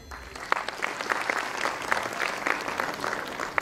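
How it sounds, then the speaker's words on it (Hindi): An audience at a Deepawali celebration claps continuously to welcome honoured guests, a dense, even patter of many hands with a few sharper individual claps standing out, carrying on for the whole span. "तालियों से स्वागत।"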